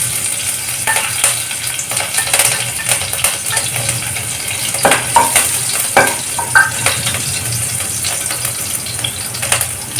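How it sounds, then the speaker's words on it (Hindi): Chopped green chilli and garlic dropped into a hot cumin and mustard seed tempering, crackling and sizzling loudly and continuously with bursts of spitting pops and occasional stirring clinks. "इसी में हम ये कटी हुई हरी मिर्च और लहसुन डाल देंगे।"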